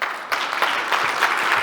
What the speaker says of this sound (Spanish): Aplauso para Javiera Canales por esa interesante exposición